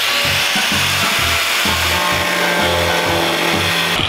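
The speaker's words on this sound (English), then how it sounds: "Just sand it." Power tool sanding a new car body kit part, a loud harsh abrasive whir pulsing in short repeated passes with brief gaps, close and alone without speech.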